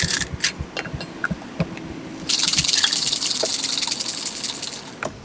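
A pineapple matcha drink with ice is poured into a sugar-rimmed cup holding fresh pineapple: a few clinking ice taps first, then a steady close liquid gush for about three seconds.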